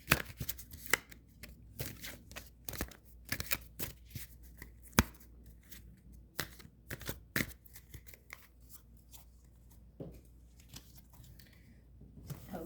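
Tarot cards being shuffled up close, a run of crisp irregular riffling snaps and slaps, with no talking over them.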